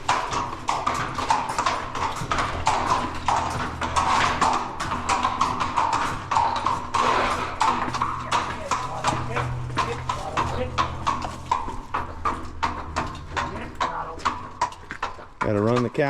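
Horse hooves clip-clop in a steady, continuous rhythm along a trail, close and clear, while people talk over the footfalls throughout.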